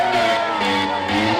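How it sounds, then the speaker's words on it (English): A festival crowd at a DJ set at Defected Croatia shouts and whoops wildly, a dense loud roar of cheering voices over a droning musical backdrop. "let's just say the crowd went a little bit bonkers"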